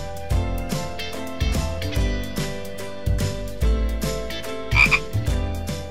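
Dart frogs call repeatedly in short croaking bursts, loud and close, with a chirpy, bubbling texture and no voices.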